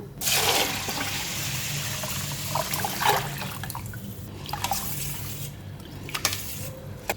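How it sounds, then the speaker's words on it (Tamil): Hot water is poured in a loud gush at first over soaking rice, then trickles and dribbles more quietly into the container, with small splashes. "தண்ணி எடுத்து அதில் ஊற்றிக்கிறேன்"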